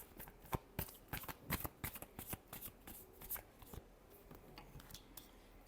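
Tarot cards being shuffled by hand in a run of crisp, rapid riffling bursts and snaps, close and fairly quiet, with no talking.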